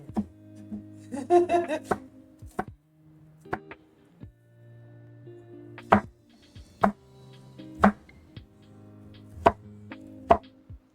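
Knife dicing small white onions on a cutting board, a sequence of sharp, separate chops at an uneven pace, close up, with a short muffled murmur near the start.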